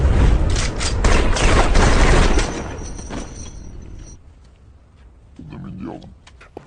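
Gunfire in a film scene where prisoners are shot dead: a dense burst of loud shots and booms for a couple of seconds, then fading to quieter sporadic sounds, with a voice at the end.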